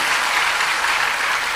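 Students at a school assembly break into dense clapping, a brief and loud burst of steady applause with no talking.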